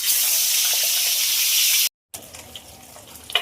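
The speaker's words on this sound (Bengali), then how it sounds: "তেল গরম হয়ে গেছে এবার ভাজার জন্য মাথাগুলো ছেড়ে দেবো" Katla fish heads coated in salt and turmeric drop into hot oil and fry with a loud, dense hiss and crackle that cuts out briefly, then resumes as quieter popping sizzle, close and without talk.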